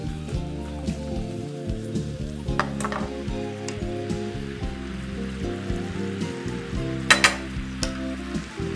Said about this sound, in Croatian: Još malo promiješamo.